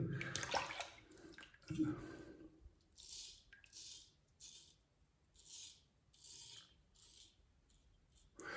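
JA Henckels carbon steel straight razor shaving skin, a series of short, crisp rasping strokes repeated at a steady rhythm, close and quiet, after a couple of louder handling clunks at the start.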